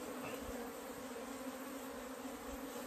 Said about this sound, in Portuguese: Olha aqui, tem um bolão de abelha, tá vendo?